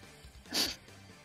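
A single sneeze bursts out loud and close in the middle, rising sharply and fading within half a second, over a quiet room tone.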